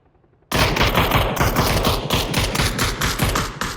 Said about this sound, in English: GTP trying to shoot at this Marauder